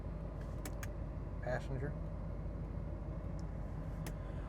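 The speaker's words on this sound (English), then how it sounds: "We just started the car." A 1991 Ford Bronco 4x4 idles steadily just after starting, a low continuous engine hum with faint clicks over it, while a person talks briefly.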